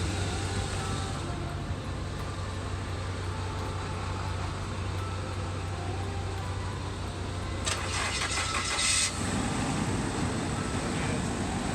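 A car engine cranks after a jump start and runs under a constant low rumble, with a burst of higher mechanical whirring near the end before settling into idling.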